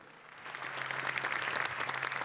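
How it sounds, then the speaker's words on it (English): An awards-gala audience in Vienna breaks into applause and cheering, a steady wash of clapping that swells and holds at moderate distance without speech. "give him a big cheer"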